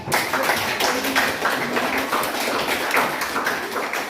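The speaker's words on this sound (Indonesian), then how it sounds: "Oke, tepuk tangan buat." Classmates clap their hands in a classroom, a steady patter of many claps that fills the whole stretch at close range, with no talk over it.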